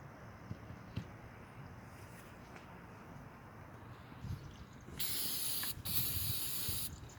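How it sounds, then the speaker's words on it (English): Brake cleaner sprayed onto a reed block from a Mercury 25 HP outboard, a faint hiss in a quiet room followed by two louder, sustained bursts of spray near the end. "Brake cleaner."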